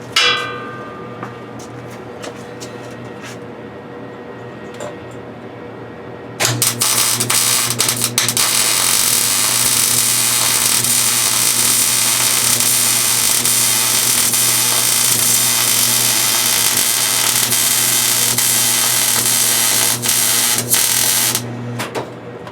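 Welding around the edge of a metal superhero armor chest plate, a loud continuous crackling buzz starting after several seconds of quieter workshop noise and holding steady until a brief drop near the end.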